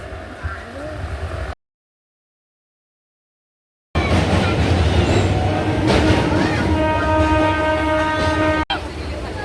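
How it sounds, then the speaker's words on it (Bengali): A passenger train running and then slowing, with a steady close rumble and clatter from the carriages, a brief cut to silence, then tonal squealing as it slows. "পাঁশকুড়ায় ঢোকার আগেই ট্রেনটা স্লো হয়ে গেছে।"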